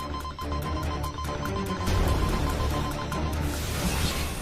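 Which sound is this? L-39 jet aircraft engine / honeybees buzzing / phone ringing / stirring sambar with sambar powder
phone ringing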